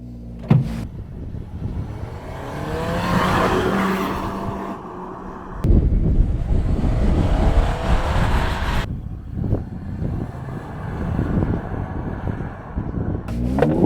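Honda CR-V Hybrid accelerating hard from a stop to 60 mph, its engine and generator motor droning loudly with rising tones and abrupt breaks where simulated gear shifts reset the pitch, heard from inside the cabin.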